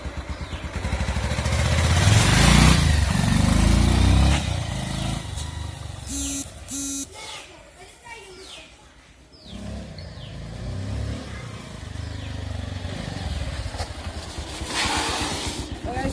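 A Bajaj Pulsar 150 motorcycle is started and ridden after a brake pad change, its engine revving loudly at first then settling to a steadier drone, with brief talk over it.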